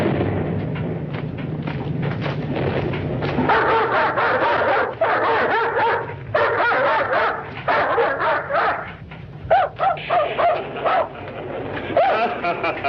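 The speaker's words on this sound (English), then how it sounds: "tell him to take that howling mutt with him" A dog barks and howls in a steady, dense run close by, its yelps and cries rising and falling for the whole stretch with no voices over it.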